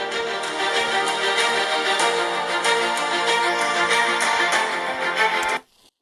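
Music plays through the THX-tuned speakers of a Razer Blade 15 laptop at 80% volume, a dense steady mix with light percussive hits that cuts off abruptly near the end.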